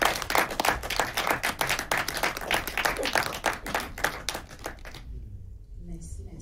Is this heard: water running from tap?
no